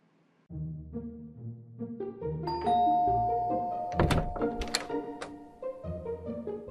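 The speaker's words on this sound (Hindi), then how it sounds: "और अब चलिए बजाते हैं किसी घर की घंटी।" A house doorbell is rung once, giving a short, bright electronic chime that stands out over a busy background of other sounds.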